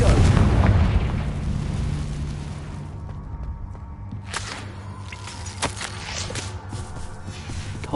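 In Hogwarts Legacy, a Confringo blasting spell explodes with a loud, booming burst at the start that rumbles and fades, followed by scattered sharp cracks and pops of debris.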